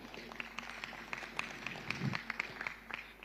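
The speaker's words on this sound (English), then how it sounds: "Another round of applause for them." Applause from an audience at a live business event, scattered claps continuing at moderate distance, fairly faint, with a brief voice in the middle.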